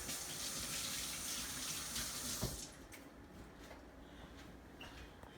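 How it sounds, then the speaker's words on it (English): A kitchen tap runs steadily while a hand is washed clean of egg, then the flow cuts off, leaving faint drips and small splashes in a quieter room. "Let me wash that egg off my hand."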